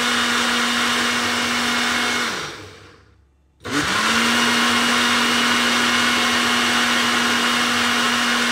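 Blender whirring steadily as it purees cucumber and lettuce with a cup of water into a slimming juice, the motor note dipping and cutting out briefly midway before restarting and running on loud and constant.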